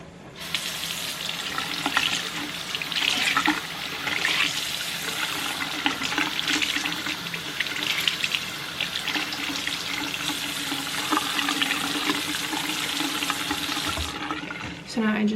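Tap water runs steadily with splashing and squishing as makeup sponges are soaked and squeezed underneath, close up, ending with a clunk as the flow stops.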